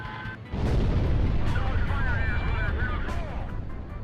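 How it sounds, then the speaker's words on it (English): Bombs dropped from an aircraft in Ace Combat Zero explode in a loud, sustained rumbling roar that swells after a brief lead-in and slowly fades. "I'm gonna drop 2 bombs here."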